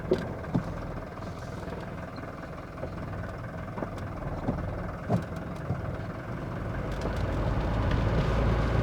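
A Mercedes-Benz 240TD diesel engine runs after a clutch change with a low, steady clatter and rumble, scattered knocks and clunks over it, and the engine note swells toward the end.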